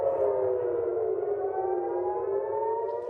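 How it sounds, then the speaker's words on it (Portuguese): Air raid sirens wail over Tel Aviv and Haifa during an Iranian missile attack, a loud, steady civil-defense tone with layered pitches slowly gliding downward across the whole span, with no voices. "As sirenes soaram em Tel Aviv e Haifa."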